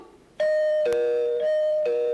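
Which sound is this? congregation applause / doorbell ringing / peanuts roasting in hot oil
doorbell ringing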